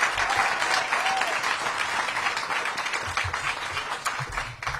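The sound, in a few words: audience applause at a mayoral event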